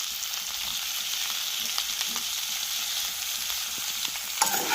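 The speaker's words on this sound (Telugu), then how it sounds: "ఇప్పుడైతే ఇందులో నేను ఆనియన్స్ వేసేస్తున్నాను" Chopped onions and green chillies sizzle in a hot pan for a Telugu-style okra curry, a steady bright crackle with small stirring scrapes and a brief louder clatter near the end, no voices.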